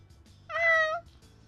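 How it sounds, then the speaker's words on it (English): A single short, clear cat meow in the Hakuoki SSL video game, close and alone against a quiet background. "I heard a meow suddenly."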